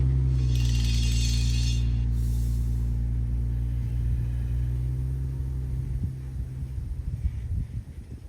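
A vehicle driving 10 kilometres north through coastal forest from Ponta Malongane to Ponta Mamoli in Mozambique, with a loud, steady low engine hum and throb heard from inside that grows bumpier and more uneven toward the end.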